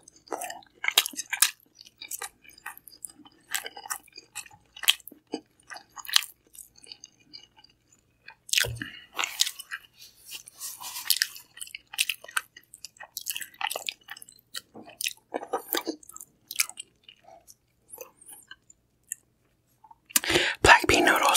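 Close-up chewing and biting of Korean food, including spicy dishes and black bean noodles, with wet crunches and squishes in an irregular rhythm, interrupted by soft whispering and a short burst of louder rustling at the end.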